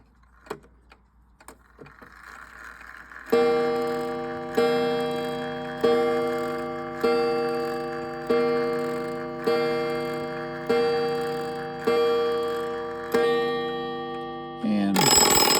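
An American T&S mechanical alarm clock ticks quietly up close, then its alarm bell rings out loud in regular repeating bursts that fade slightly between strikes, ending with a louder final ring.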